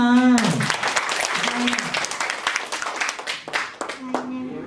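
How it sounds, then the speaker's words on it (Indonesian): Schoolchildren in a classroom clap together loudly in a dense, ragged burst of many hands lasting several seconds, with an adult voice heard at the start and again near the end. "Tepuk tangan."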